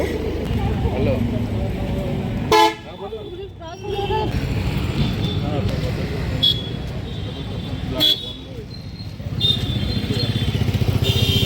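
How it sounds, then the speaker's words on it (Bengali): Traffic rumbles steadily along a busy city street, with two short, sharp horn toots and other engine noise, and voices can be heard through it. "চারিদিকে শোরগোল, ব্যস্ততম একটা শহর।"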